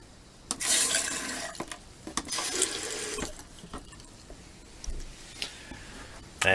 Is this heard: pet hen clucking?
no